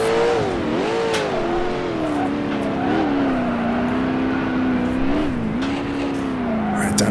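A 1966 Can-Am race car in Grand Prix Legends at Mosport, its engine note dropping as it downshifts to first gear, then droning with repeated dips and swells through Moss Corner, loud and continuous, with someone talking over it.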